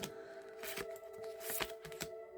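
Oracle cards are shuffled and handled at close range, with several crisp riffling bursts and slides over a faint steady background hum.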